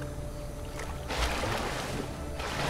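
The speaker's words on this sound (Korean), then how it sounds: "보트다!" Boat in the LEGO Worlds video game, a steady watery engine and splashing wash that swells louder partway through, continuous with no talking.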